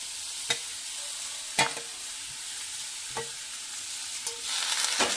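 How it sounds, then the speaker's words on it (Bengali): Grated papaya with melon seeds is stirred in a pan for papaya laddu, a soft continuous sizzle punctuated by a few sharp, spaced spatula scrapes against the pan, near and alone. "পেঁপেটা একটু নাড়াচাড়া করে নেব।"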